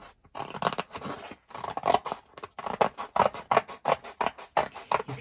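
Scissors snipping through a cardstock file folder in a quick run of crisp, dry cuts, close and steady, with short pauses between strokes and no voices.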